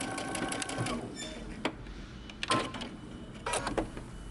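A sewing machine back stitches the sleeve seam of a button-up shirt, with short bursts of mechanical whirring and clicking, stopping and starting at close range, with no talking.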